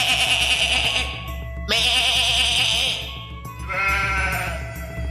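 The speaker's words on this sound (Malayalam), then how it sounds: "നല്ല ആട്" A goat bleats loudly and close in three long, wavering calls separated by short pauses, set against a faint low hum.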